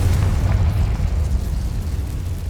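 A Confringo fire spell explodes in the video game Hogwarts Legacy, a loud, sustained low rumbling blast with crackling bursts running through the whole stretch, no speech over it.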